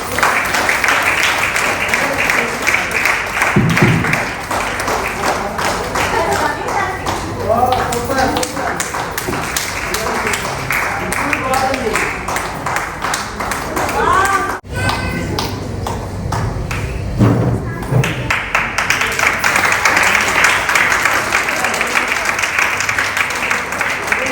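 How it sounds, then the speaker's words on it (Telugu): Applause from an audience at a wellness centre recognition event, with loud, continuous dense clapping filling the space and voices mixed in throughout. "ఇక్కడ క్లాప్స్ అండి మేడం గారికి."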